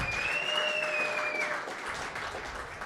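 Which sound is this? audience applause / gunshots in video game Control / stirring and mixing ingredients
audience applause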